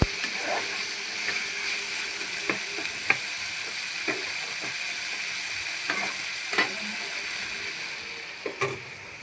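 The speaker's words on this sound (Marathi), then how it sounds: "आपल्याला कांदे शिजून घ्यायचे" Onions cook in a pan, a soft continuous sizzle under a constant high hiss, with occasional sharp knocks and scrapes of a spoon against the pan, no voices.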